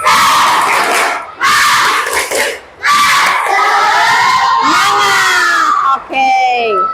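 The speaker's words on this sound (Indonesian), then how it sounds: "Mana semangatnya? Tepuk semangat." Fifth-grade schoolchildren in a classroom shout a rhythmic 'tepuk semangat' spirit chant together, loud and close, in several bursts of group voices with brief pauses between them and rising shouted tones near the end.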